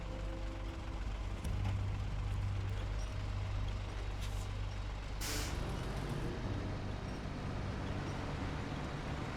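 A Derry Special 15C-177 fire truck in the video game SnowRunner rumbles with a low, steady engine drone, broken partway through by a short, sharp air-brake hiss.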